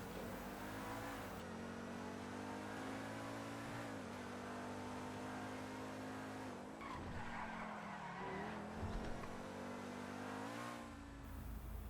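A BMW i8-based Niobe sports car in GTA V, with a steady high engine drone, tires skidding and squealing, and occasional revs in close, continuous driving without talk.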